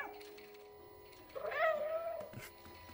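A single meow from the cat in the video game Stray rises over a low background of game ambience, moderately close and lasting under a second.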